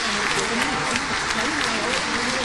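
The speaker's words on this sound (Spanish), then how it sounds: "Es recibida entre aplausos" Parliamentarians in Peru's Congress applaud during the presentation of Mercedes Aráoz as acting president, a loud sustained roar of clapping from a large chamber with crowd voices mixed in.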